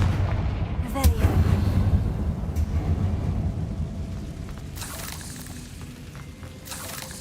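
Confringo fire spell in Hogwarts Legacy, booming explosive blasts over rumbling game effects, with a sustained roar and later crackling bursts; a voice is heard faintly in the mix.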